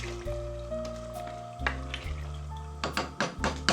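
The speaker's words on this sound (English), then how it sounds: "Give it a little stir of everything." A spoon clinks and scrapes around a pot of bread ingredients in a short run of stirring strokes, with rhythmic knocks against the metal growing quicker toward the end.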